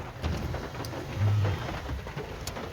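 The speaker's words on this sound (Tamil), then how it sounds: "நல்ல மழையில் மாட்டிக்கிட்டோம்." Heavy rain pours down steadily in a broad, dense hiss during a rainy-day outing, with a low rumble underneath and no voices.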